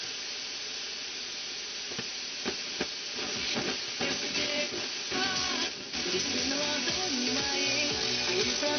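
A Leningrad-002 portable radio receiver switched to the VHF band gives off a continuous broadband hiss and static, with crackles and faint bursts of tuning noise. It stays loud and close throughout with no talking.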